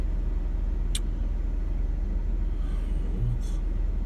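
A car drives through Toronto streets, heard from inside as a steady low road and engine rumble with a couple of faint short squeaks and clicks, and no other sounds standing out.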